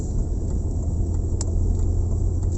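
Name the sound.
BMW E46 car engine while driving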